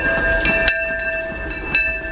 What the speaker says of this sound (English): Train looks so cool at night.